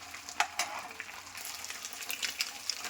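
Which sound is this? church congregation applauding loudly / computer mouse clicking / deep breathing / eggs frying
eggs frying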